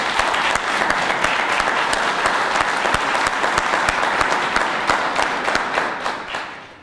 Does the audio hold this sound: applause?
yes